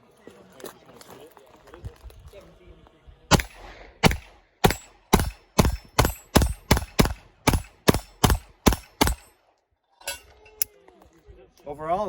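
A Beretta handgun fired in a rapid string of about a dozen loud, sharp shots at an even pace, preceded by quieter handling noises and followed by a couple of scattered reports.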